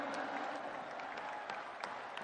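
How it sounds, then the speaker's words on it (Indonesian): Crowd applause for presidential candidate Anies Baswedan at a NasDem party rally, a steady wash of clapping with a few sharper claps standing out, sustained and fairly distant. "Tepuk tangan sekali untuk Bapak Anies Baswedan."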